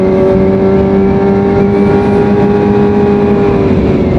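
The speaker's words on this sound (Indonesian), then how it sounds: "menikmati suara raungan motor gua ini gitu" A Kawasaki ZX25R motorcycle engine roars loudly and steadily at close range, holding a sustained high-pitched drone without pauses.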